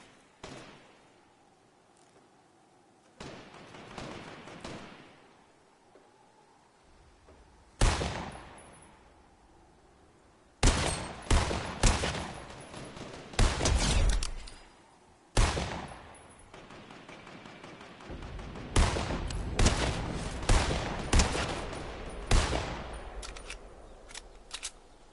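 Gunfire in Fortnite arrives as scattered single shots, followed by clusters of sharp rapid bursts separated by quieter gaps, loud and close.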